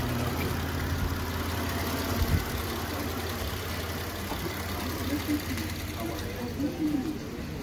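A 2010 Mitsubishi Pajero engine idles smoothly after a cylinder head overhaul, a steady low rumble heard close up with a brief bump partway through and no talking over it.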